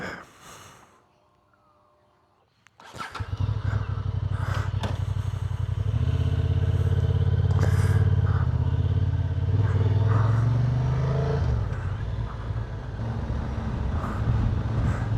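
A Honda Transalp 750 motorcycle starts off after a quiet pause near the start, its engine note rising into a steady, loud, close riding drone that swells and holds as it pulls away and cruises along the road.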